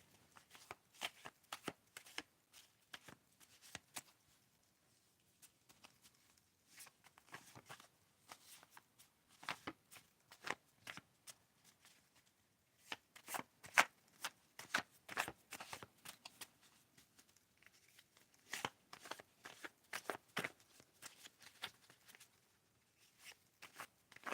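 A deck of playing cards is shuffled repeatedly in quiet, close-up bursts of crisp riffling and flicking, with brief pauses between rounds, and nobody speaks.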